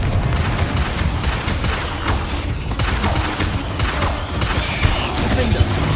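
Rapid, dense volleys of blasts and bangs from the Confringo fire spell during combat in Hogwarts Legacy, loud and continuous with crackling impacts layered throughout.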